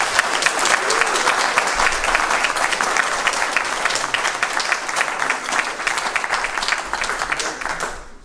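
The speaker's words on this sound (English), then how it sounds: "give a rousing round of applause to our" Rousing applause at an MTFOA general meeting for the outgoing director, a full room clapping steadily and loudly for several seconds before it tapers off abruptly at the end.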